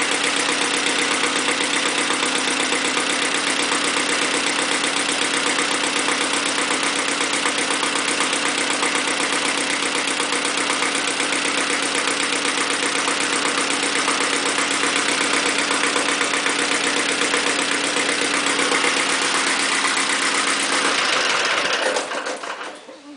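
An Iseki diesel tractor engine idles steadily and loudly, up close, during a crankcase blow-by check, with a constant mechanical clatter and hum that runs unbroken for over twenty seconds before cutting off at the end.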